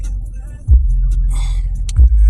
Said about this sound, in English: I'm on this freeway in traffic like I'm normally caught up in.